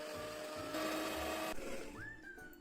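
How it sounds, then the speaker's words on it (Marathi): A kitchen mixer grinder whirs steadily as it grinds a masala of garlic, cumin, chili, coconut and onion, a faint continuous motor drone with a brief louder stretch partway through. "आता आपण मसाला वाटून घेऊया"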